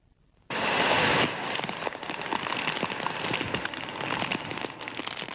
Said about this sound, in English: the rain just kept coming, a continuation of the tropical storm conditions of Sunday night and a prelude to Hurricane Gilbert